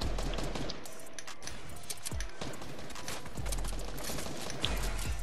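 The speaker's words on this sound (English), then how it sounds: "Is that you shooting at me?" Gunfire in the battle royale video game Fortnite: a loud, continuous barrage of overlapping shots and cracks with a few sharp booms, filling the whole stretch without speech.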